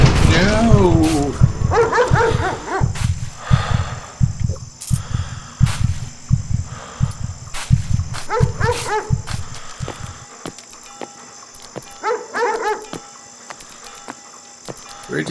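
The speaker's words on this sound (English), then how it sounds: "Where did these dogs come from?" Dogs barking repeatedly in the horror game Haunted Memories, loud rhythmic bursts close by over a constant cricket chorus, with a yelping voice at the start and the barking thinning out toward the end.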